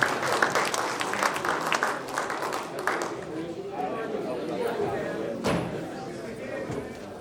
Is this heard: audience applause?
yes